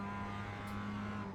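A Mazda MX-5 race car driving at Tsukuba in the sim-racing game iRacing gives a faint, steady engine drone with a sustained tonal hum and no clear revving peaks.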